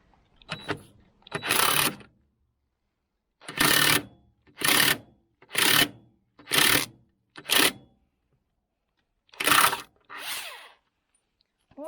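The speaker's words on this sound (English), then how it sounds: "Got my impact gun to drive it, so I don't have to basically use a big torque wrench or break a bar" An impact gun driving a bolt on the front wheel of a Ford 3000 tractor, firing in about eight loud rattling bursts of roughly half a second each, separated by silent gaps, close by.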